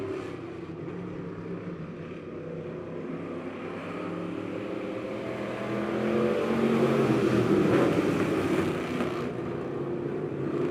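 Five stock cars race bumper to bumper around Lebanon Midway Speedway, a steady blended engine roar that swells louder mid-clip as the pack passes nearby, then eases slightly.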